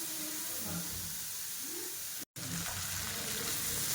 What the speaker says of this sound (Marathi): हे पहा, आपले बारीक चिरलेले टोमॅटो पण आपण घातले आहेत। आणि छानपैकी आपल्याला हे फ्राय करून घ्यायचे आहेत।